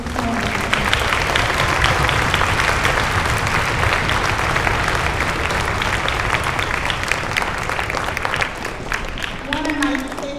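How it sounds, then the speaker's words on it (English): An audience at a middle school Veterans Day celebration applauds a morning performance, dense sustained clapping throughout with some crowd noise, fading slightly at the end. "give a round of applause for such a beautiful performance this morning"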